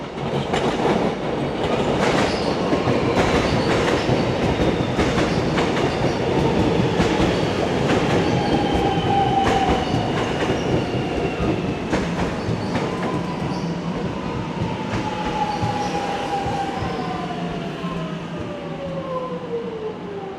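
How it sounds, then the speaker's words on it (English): A suburban train bound for Lilydale passes through Box Hill station, its loud rumble and clattering wheels filling the whole stretch, with squealing wheel tones gliding downward as it draws away and slowly fades. "Off goes the train going to Lilydale."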